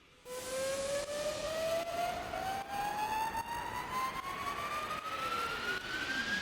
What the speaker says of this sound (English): I have a riser that I created in Serum.